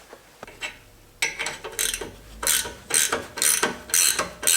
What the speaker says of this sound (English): let's just get a ratchet wrench on there